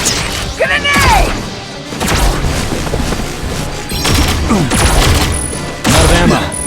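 Grenade blast in the G.I. Joe: Operation Blackout video game, with loud booms and crashing impacts amid gunfire and game voices.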